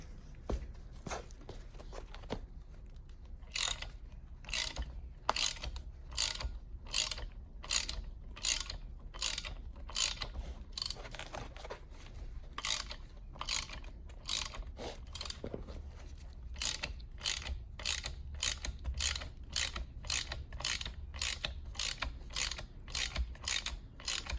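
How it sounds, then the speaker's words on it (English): A wrench ratcheting a puller to draw a bearing off a Volvo 850 T-5R rear differential, sharp rhythmic clicks repeating in bursts, close and clear over a quiet workshop background. "we're just going to turn this wrench and it's going to slowly pull the bearing off"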